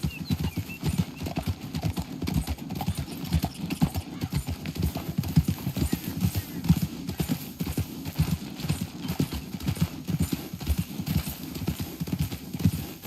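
Galloping horse hooves pound in a fast, continuous rhythm, loud and close, during a canyon chase in the Western game Red Dead Redemption 2, with only a little talk.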